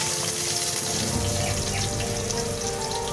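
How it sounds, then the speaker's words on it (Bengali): Small cut potatoes hit spiced oil in a pan, giving a steady, dense sizzle and crackle that runs evenly throughout, close and fairly loud with no talking. "আলুগুলো একটু লাল লাল করে ভাজবো।"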